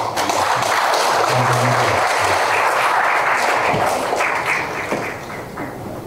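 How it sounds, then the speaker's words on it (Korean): A large audience in a conference hall gives loud, sustained applause after a keynote lecture at the Chuncheon International Water Forum 2025. The dense clapping fades slightly toward the end. "훌륭한 강의를 해주신 이주원 교수님께 다시 한번 큰 박수"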